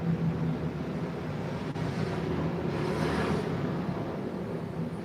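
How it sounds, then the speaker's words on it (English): A pack of motorcycles roars past in a steady, loud, continuous engine drone that swells slightly in the middle, with no voices over it. "That's a whole bunch of motorcycles."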